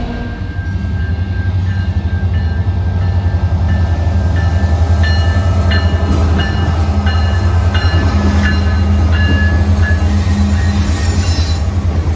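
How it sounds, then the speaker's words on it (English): A southbound Canadian National freight train rolls past close by on the main line at Fond du Lac, loud and continuous, with a deep rumble of heavy wheels and intermittent high wheel squeals. "Yet another southbound train rolling out of Fond du Lac"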